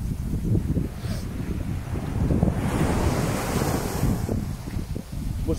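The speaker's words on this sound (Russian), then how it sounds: "Особенно плеск волн." Ocean waves surging and splashing in a small bay on Mauritius, a continuous loud wash of surf with heavy wind buffeting the microphone and no voices.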